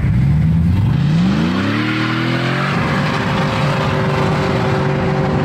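Drag car driving off and accelerating, its engine note climbing steeply in pitch through the gears, loud and close, then settling into a sustained high drone.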